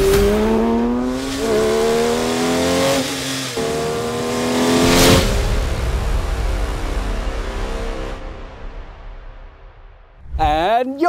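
A Porsche 911 S/T with a 4.0-litre engine revving hard toward high rpm, a loud close rising howl with stepped gear-like shifts that fades out, followed by a sharp second rev burst at the end.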